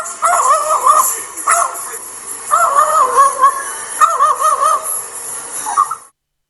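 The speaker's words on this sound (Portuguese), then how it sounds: "após um ano de amizade, começou até a latir para os outros animais" A bird gives a series of short, yapping dog-like barks and squawky calls, loud and close, in bursts with brief pauses between them.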